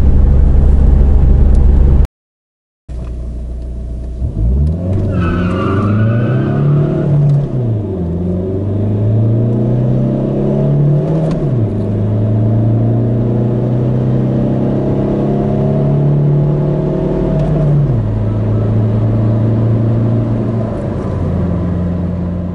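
Chip-tuned turbocharged car launching hard in an acceleration test, tyres spinning for lack of grip, the engine revving up through several gears in loud rising sweeps with brief dips at shifts, after a short cut at the start.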